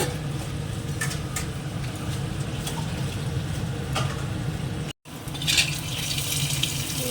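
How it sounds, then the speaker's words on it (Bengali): Water is poured into a simmering curry with ground chili and spices, making a steady, close rushing and gurgling stream, broken by a momentary silence before continuing with some splashing. "দিয়ে দেবো একটু জল কারণ আজকের এক পাতাতে হবে একটু ঝোল মতন হবে"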